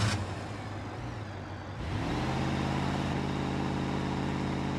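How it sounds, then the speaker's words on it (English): A 1992 Chevy Caprice engine in BeamNG.drive cranks and catches, then settles into a steady, loud, droning rev that holds to the end after a brief quieter lead-in. "start your engine"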